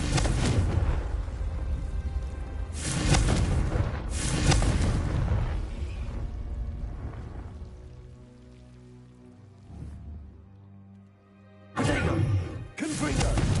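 Confringo fire spells blast in Hogwarts Legacy: loud, dense bursts of crackling, booming noise that come in several waves, then fade into a softer rumbling tail before a final blast.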